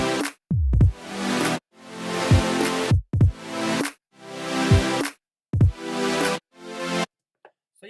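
Future bass chords swell in rhythmic pulsing blocks over drums, with deep pitch-dropping kicks under each stab, loud and upfront, with brief gaps between phrases.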